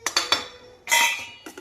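A spoon stirs sambar in a metal cooking pot, giving a few sharp close clinks and scrapes against the pot, in quick separate knocks with a longer scraping pass in the middle.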